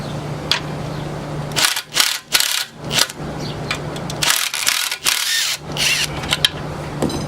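Ratcheting and rattling bursts come from a tool working loose a suspension subframe bolt, several quick tool runs with pauses between, close up over a faint steady hum.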